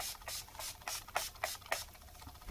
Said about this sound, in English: Spray this on.